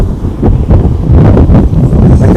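Sea wind gusting steadily across a beach, a loud continuous roar buffeting the microphone with rising and falling surges and no voices.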